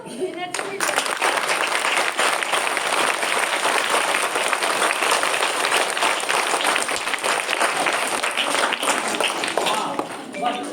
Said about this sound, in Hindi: एक बार ताली पीट दो।